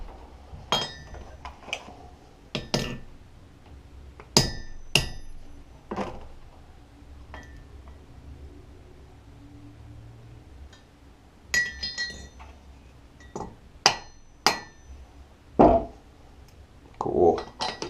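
Sharp metallic clinks from a punch struck into a coin ring tool while forming a wide men's coin ring band, coming as scattered single hits and short pairs spread through the clip, fairly close, with no talk.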